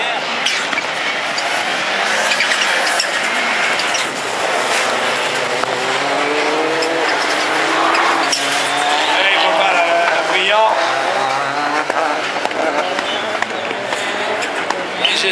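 Rallycross race cars in a semi-final at Dreux, engines roaring and shifting pitch as they pass, loud and continuous in an outdoor crowd setting with commentary and spectators talking throughout.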